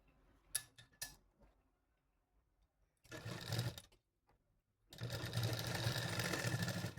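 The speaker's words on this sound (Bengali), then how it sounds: "ধরে এখানে একটা সেলাই মেরে নেব।" A sewing machine stitching a Laddu Gopal dress runs in two bursts of rapid, close mechanical whirring and ticking, with a few faint clicks before them.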